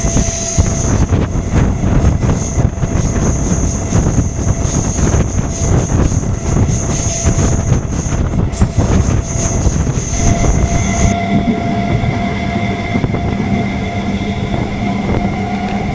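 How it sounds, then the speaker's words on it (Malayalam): Inside the motor coach of a 12-car MEMU train on the Nilambur-Shoranur line at around 80 km/h, a loud continuous rumble of wheels and traction motor with a steady high whine that shifts pitch partway through. "ഇതൊരു മോട്ടോർ കോച്ചാണ്. നമുക്ക് മോട്ടോർ സൗണ്ട്സ് കേൾക്കാൻ പറ്റും."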